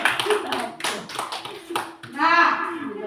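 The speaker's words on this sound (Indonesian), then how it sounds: "beri tepuk tangan dulu" A class of students applauds together, a quick run of hand claps over the sound of young voices and chatter.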